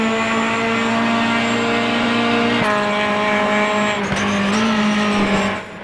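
A race car in the RaceRoom racing game holds a loud, steady engine drone in fourth gear, with a brief dip and a tyre scrub near the end. No one speaks over it.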